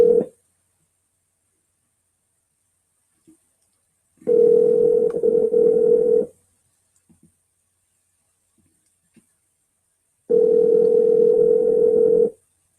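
Ringback tone of an outgoing phone call that rings and then goes to voicemail: three separate buzzing rings, each about two seconds long, with long silences between them, clear and alone.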